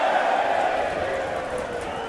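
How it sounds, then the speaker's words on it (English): A broad crowd roar at a Northern Premier League football match between South Shields and Marine, loud at first and slowly easing, with talk mixed in. "Few cheers from the crowd."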